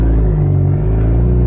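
A Kawasaki Ninja 650R motorcycle being ridden, its engine a loud, steady, close rumbling drone that holds an even level throughout, with no voices.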